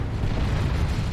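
A Sentinel walker is destroyed in Dawn of War 2, and a loud, deep explosion roars steadily through the whole short moment with no voices over it.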